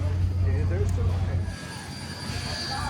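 A passenger train at Steamtown rolls along with a deep, steady rumble and faint wheel squeal on the rails, while people's voices murmur nearby.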